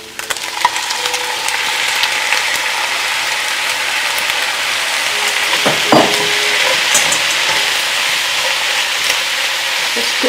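Frozen clams frying loudly in a hot pan for a white sauce pasta, a steady dense sizzle with metallic clicks and scrapes from stirring, alone without talk.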